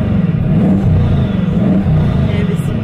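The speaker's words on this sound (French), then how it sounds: "t'as le W16 qui s'allume de 1500 chevaux" The W16 engine of a Bugatti Chiron turning over and idling, a deep, steady burbling rumble with a slight pulse, heard close by.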